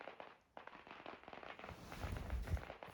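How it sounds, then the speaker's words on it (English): Firecrackers go off at night in the distance, a rapid string of sharp crackling pops with a brief pause, then a denser burst of bangs toward the end, fairly faint overall. "Firecrackers?"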